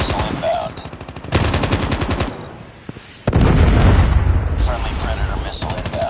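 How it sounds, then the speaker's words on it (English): Call of Duty Mobile match with bursts of rapid automatic gunfire, a pause, then a heavy Predator missile impact roar, with game voice callouts heard during the action. "Friendly Predator missile inbound."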